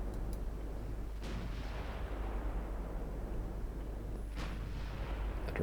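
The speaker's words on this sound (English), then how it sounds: "Battlecruisers are firing." Battlecruisers fire naval guns in the warship strategy game Ultimate Admiral Dreadnoughts, set in a 1944 China campaign: two distant booming salvos rumble out over a constant low engine drone, each trailing off slowly.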